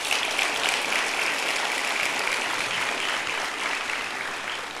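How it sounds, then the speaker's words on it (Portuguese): A church congregation claps together in a loud, steady burst of applause for Jesus during a sermon, the clapping dense and continuous before tapering slightly at the end. "Pode aplaudir Jesus"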